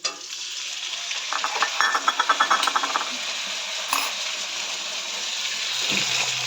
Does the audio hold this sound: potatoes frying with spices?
yes